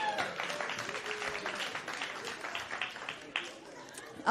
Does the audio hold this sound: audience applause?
yes